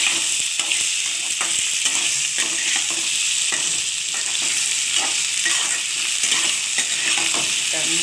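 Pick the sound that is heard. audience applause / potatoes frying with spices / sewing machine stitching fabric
potatoes frying with spices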